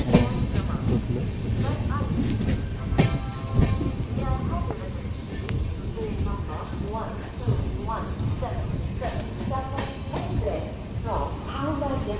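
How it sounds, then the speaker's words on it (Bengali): The Chambal Express pulls into Dabra station in Madhya Pradesh, its wheels and carriages rumbling and clattering steadily close by, with a voice talking over the train noise. "ট্রেন আমাদের ডাবরা স্টেশন, মধ্যপ্রদেশের ডাবরা স্টেশনে ঢুকলো"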